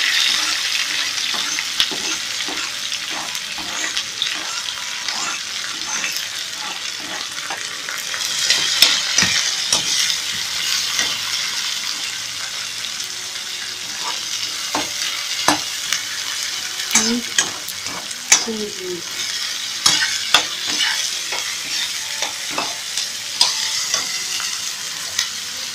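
Cumin, curry leaves, onion, green chili and ginger frying in oil for rava upma, a continuous bright sizzle with intermittent spoon scrapes and clicks throughout.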